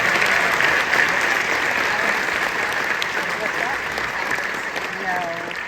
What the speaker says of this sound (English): Nice round of applause for all of them.